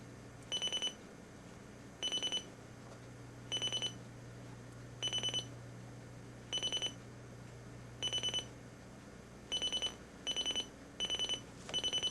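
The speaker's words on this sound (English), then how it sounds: "It is a progression alarm, as you can tell." Alarm on a Sony Dream Machine ICF-C143 clock radio: nine short bursts of rapid high beeping at roughly one-second intervals, steady and fairly loud, over a low background hum.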